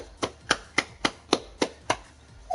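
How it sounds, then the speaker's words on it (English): About nine sharp, evenly spaced claps in a steady rhythm, loud and close, like one person clapping hands alone. "Everybody give him a round of applause."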